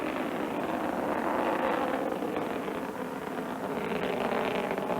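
An Atlas rocket climbs away from Cape Canaveral on a Project Mercury mission, producing a continuous broadband roar that holds steady and distant throughout.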